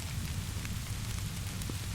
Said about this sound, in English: A particularly large raindrop landed on the skylight directly above his workbench